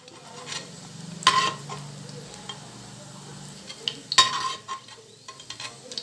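Rice and chickpeas being dry-roasted and stirred in a pan over low flame for sundal biryani, a quiet sizzle with two sharper scrapes and clinks of the spoon against the metal vessel.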